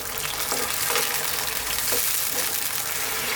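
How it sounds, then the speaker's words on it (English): Spicy arrabbiata tomato sauce cooking in a pan, a dense, steady, close sizzle and bubble with a few soft stirring strokes, loud and unbroken, no speech. "Give it a little stir every now and then"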